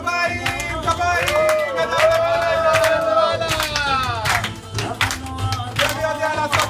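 Children clap their hands in sharp, uneven claps at a Purim kindergarten party, mixed with lively voices and music.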